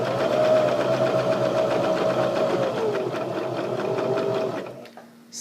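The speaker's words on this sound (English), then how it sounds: "and then continue sewing." A sewing machine runs steadily and close while sewing a seam, slowing slightly near the end and then stopping, with a short quiet tail.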